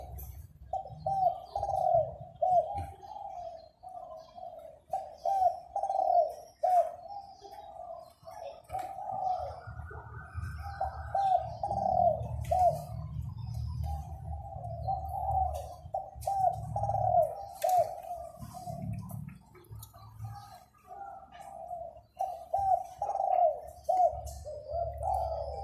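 A newly acquired dove-like bird coos its 'si kuk ha kuk' call repeatedly and rhythmically in the morning, steady phrases close by over low background rumble, without talking.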